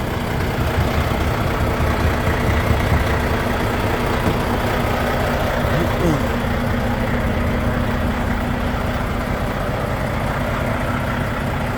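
A tractor-trailer truck idles steadily throughout a pretrip inspection, a constant low diesel rumble with a faint hum, continuous and moderately close with no voices.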